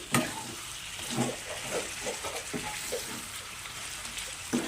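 Chicken pieces with salt being stirred in a pan for chicken fry, giving soft repeated scraping strokes over a steady low sizzle, close and fairly quiet, with no voices.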